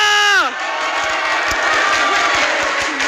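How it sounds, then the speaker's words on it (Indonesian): Loud crowd cheering and applause sweep through the Imperial Arena at an esports match, a dense roar of shouts and whoops with clapping underneath, following a brief voice at the start. "So, Imperial Arena mana tepuk tangannya?"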